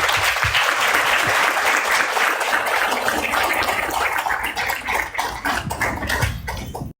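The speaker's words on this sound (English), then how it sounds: "a round of applause for everyone who shared a story" A room full of people applauds after a storytelling and support gathering, a close, continuous wash of clapping that thins and fades out just before the end.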